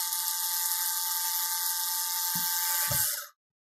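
An electric screwdriver drives screws into an EZVIZ CP4 digital door viewer with a high, steady whine, heard close up. Two short low knocks come near the end, then the motor stops abruptly and silence follows.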